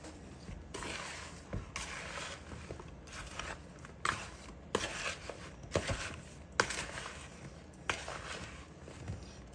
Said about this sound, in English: Now, I'm going to stir that into our apples